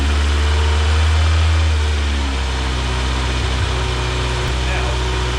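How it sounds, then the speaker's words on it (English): 2023 Kawasaki Z900 motorcycle engine idling after an oil change, a loud steady low rumble close by for several seconds, with a slight rise in the first seconds before settling. "Next thing we're going to do is we're going to turn on the bike."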